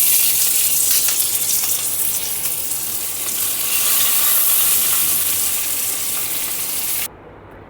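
Prawns fry in oil in a pan, giving a loud, dense, continuous sizzle that holds steady throughout and then drops away abruptly near the end.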